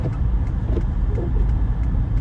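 A car drives slowly through snow on hilly Hudson Valley roads, a steady low rumble of engine and road noise holding at a constant level throughout with no talk.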